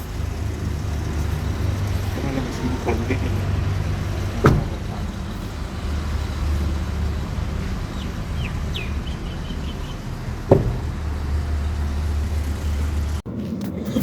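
A car idling with a steady low engine rumble while stationary before setting off, with faint birds calling outside and a couple of brief knocks like a door or gate.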